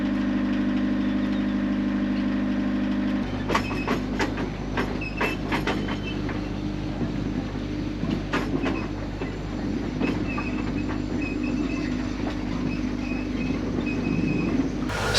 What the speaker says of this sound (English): it uses a rack and pinion system, and that basically is like a chain that pulls the train up the hill.